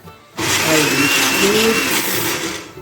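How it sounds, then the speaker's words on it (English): A blender whirs loudly and steadily for a couple of seconds after a brief quiet start, its motor grinding continuously as it blends beans for akara. "I'm using the blender to blend this blend I will use for the akara"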